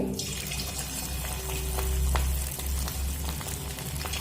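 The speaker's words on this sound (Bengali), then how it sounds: "দেখুন তেলটা গরম হয়ে এসেছে আর গ্যাসের জোরটা আমি মিডিয়াম করে দিয়েছি এবার দেখুন একে একে চিকেনগুলো দিয়ে দেব" Chicken pieces fry in hot oil over a medium gas flame, giving a steady close hiss and crackle with occasional sharper pops, and no voices.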